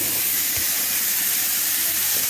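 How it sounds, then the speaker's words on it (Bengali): Cauliflower frying in a pan, a loud continuous hissing sizzle that is steady throughout, with brief low knocks underneath. "ফুলকপি ভাজা হচ্ছে"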